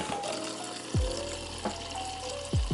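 Water pours from a tap into mugs for holiday coffees, a steady close rush with a few bright clinks and gurgles as the flow shifts, no talking.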